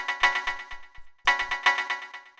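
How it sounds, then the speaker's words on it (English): Sampled chord stab for a minimal house track, bright clipped synth chords repeating in a syncopated rhythm, two short phrases separated by a brief gap, played alone and fairly loud. "And then the last chord stab that we have down here sounds like this."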